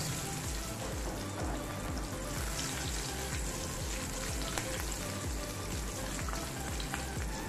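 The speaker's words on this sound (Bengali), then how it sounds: "কাঁচা লঙ্কাটা যাতে একটা সুন্দর স্মেল বেরিয়েছে তার জন্য একটু ভেজে নিচ্ছি" Green chillies frying in oil over a low gas flame for a Bengali begun ilish (hilsa with aubergine) curry, a steady dense sizzle with scattered crackles and pops running evenly throughout, close and alone.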